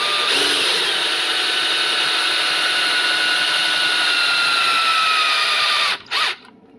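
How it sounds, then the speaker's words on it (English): A power drill whirs continuously at high speed for several seconds, close and loud, then briefly stops, restarts and cuts out, as it turns a motor gear during a motor replacement on an Anycubic Photon Mono X 6K resin 3D printer. "you can stick a drill in the tip, and turning it clockwise will result in it going up"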